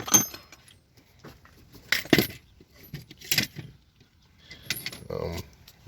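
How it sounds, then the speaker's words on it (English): Set of 1/2 inch Craftsman shallow sockets being handled, bursts of metallic clinking and rattling between brief pauses, close and moderately loud, with no talk. "Got a set of 1/2 inch shallow sockets here."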